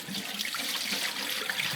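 Water splashing and trickling as excess water is poured off from a pot of eggs being boiled, a short steady rush of liquid heard up close.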